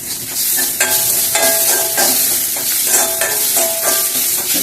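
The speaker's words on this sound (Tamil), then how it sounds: "தேங்காயும் ஜீரகமாக போட்டு வறுக்கிறது." Grated coconut and cumin are roasted in a pan for Mysore rasam, a spoon scraping through them in steady repeated strokes over a soft continuous sizzle, loud and near with no talking.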